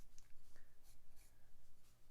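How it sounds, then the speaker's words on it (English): A dark, soft pencil scratches lines across paper in quiet, close strokes, with a continuous rhythmic rasp and a few sharper scrapes. "I'm going to make my lines a little darker for you. And in that case, I will get a darker, softer pencil."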